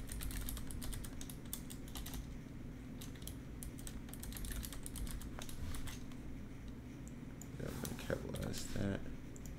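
A password is typed on a computer keyboard in quick runs of close, crisp key clicks over a low steady hum, with a brief pause before a final few taps; no talk is heard.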